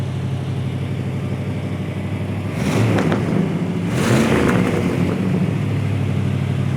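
A 1979 Chevy Camaro Z28 with dual exhaust idles with a steady rumble, then revs twice in quick succession, each blip swelling louder before settling back, close by and unaccompanied by talk.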